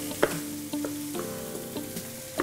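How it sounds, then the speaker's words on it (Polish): Vegan cutlets sizzle steadily in a hot pan, with a few clinks and scrapes of a utensil stirring, close by and without talk. "trzeba pamiętać, żeby kotlety podsmażyć z obu stron"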